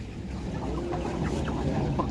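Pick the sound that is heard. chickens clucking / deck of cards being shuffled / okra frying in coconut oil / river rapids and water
chickens clucking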